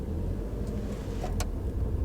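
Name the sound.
VW Golf MK7 GTI pulling away in first gear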